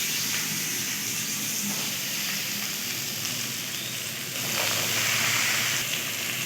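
Chopped potatoes frying in oil with panch phoron in a village kitchen, a constant dense sizzle that swells a little toward the end, close and uninterrupted by speech.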